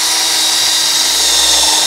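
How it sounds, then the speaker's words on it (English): A power drill bores pilot holes, running as a loud, steady, continuous whirring whine for the whole stretch, close up and with no talking. "I did not mean to drill these two holes."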